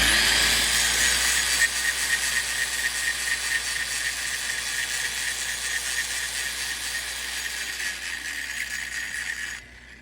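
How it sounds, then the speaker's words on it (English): Angle grinder feathering down the end of a weld bead on a 3-inch steel pipe, a loud continuous high-pitched grind with slight wavering load that runs steadily for nearly ten seconds, then cuts off abruptly near the end. "Not going to grind it too much."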